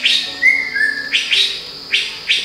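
Birds sing on a mountain trail near an active volcano with two craters, giving clear whistled notes followed by bright repeated chirps in a quick rhythm, close and alone.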